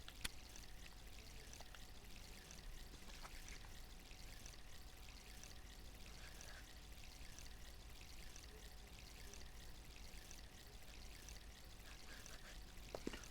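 A steady stream of running water flows among trees in the video game Myst, an even, unbroken pouring rush at moderate loudness with a few faint clicks and no talk over it.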